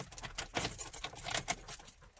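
A car key slides into the ignition of a car with a suspected defective battery or corroded battery terminals, giving a brief cluster of close metallic jangles and clicks with no talking.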